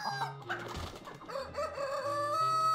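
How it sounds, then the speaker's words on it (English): A rooster crows and chickens cluck in the video game ALTF4, close and clear with a short crowing call over scattered clucks and bird chatter. "Let's just grab all the chickens."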